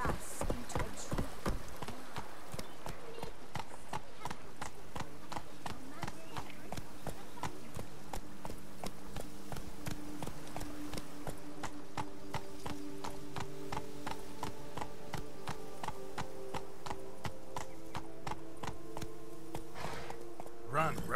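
Roach, a horse in The Witcher 3, gallops with steady, rapid clip-clop hoofbeats across the whole stretch, sitting over a game music bed with a brief voice near the start.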